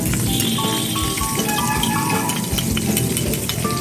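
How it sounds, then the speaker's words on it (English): Water poured into masala paste in a hot cooking pan, a steady rushing and sizzling wash with bubbling throughout, no talk. "And some water as well."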